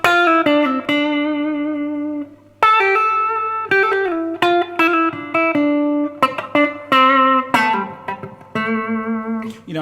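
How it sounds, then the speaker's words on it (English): A Fender Stratocaster electric guitar played fingerstyle with reverb rings out in clean, sustained melodic notes and quick plucked phrases, close and solo. "Let's get a bit of reverb to help me out here."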